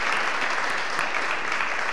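Continuous, loud applause from a seated audience thanking guests after a discussion, many hands clapping in a dense, even roar that holds steady throughout with no voices.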